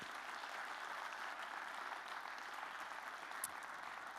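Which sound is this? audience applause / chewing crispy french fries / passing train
audience applause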